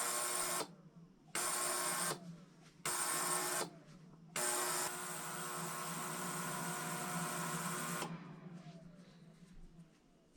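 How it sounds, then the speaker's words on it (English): Ultrasonic cleaner holding new Lapua brass cases for 6.5 PRC in fluid on a degas setting starts and stops in several bursts of loud, even buzzing hum, then runs steadily for a few seconds before shutting off. "The sonic cleaner is done doing its thing."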